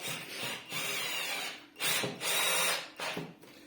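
A Mächtz MCD-12N-Li cordless screwdriver runs in four separate bursts of high whirring motor noise, each lasting roughly half a second to a second, with short quiet gaps between them.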